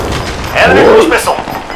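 An enemy cruise missile strike in the video game Call of Duty Modern Warfare bursts into a loud, brief explosive blast with crackling debris, heard close amid game sounds.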